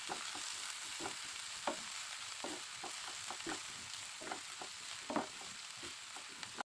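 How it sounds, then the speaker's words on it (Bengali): Chopped onion, garlic cloves, green chillies, coriander leaves and salt fry in a pan with a steady, continuous sizzle, broken by regular scraping strokes of a spatula, close and alone with no voices. "১ কাপ পেঁয়াজ কুচি, কিছু রসুনের কোয়া, ৭-৮টা কাঁচামরিচ, ১ কাপ ধনেপাতা কুচি, পরিমাণ মতো লবণ দিয়ে ভেজে নেব"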